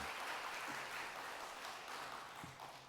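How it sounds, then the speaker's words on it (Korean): A church congregation applauds to welcome a short-term mission leader, an even wash of clapping from many hands that stays fairly steady and slowly tapers, heard at a distance in a large room. "우리 아이작 형제님 잠시 일어나시면 우리 박수로 환영하도록 하죠"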